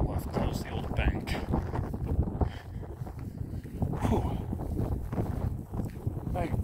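Strong desert wind roars and buffets the microphone without a break among the ruins of Rhyolite, Nevada, near Death Valley, loud and close throughout.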